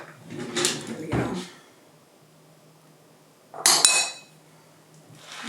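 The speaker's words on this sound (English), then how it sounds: "I think I need something else to stir this with. Let me grab some tongs." Kitchen tongs are pulled from a drawer: two bursts of drawer sliding and metal utensil clatter close by, a quiet pause with a faint hum, then a sharper metallic rattle and clink.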